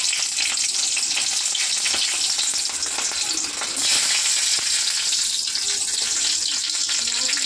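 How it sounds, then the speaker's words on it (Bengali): Broken dried chillies and a few black cumin seeds fry in hot oil, giving a steady, dense crackling sizzle close up that runs unbroken throughout with no talk. "দেখো লঙ্কা ভেঙে নিয়েছি, দিয়ে দেবো।"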